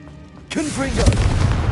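Confringo spell blast in Hogwarts Legacy, a sudden loud booming burst with a rolling crackling tail, mixed with a shouted voice.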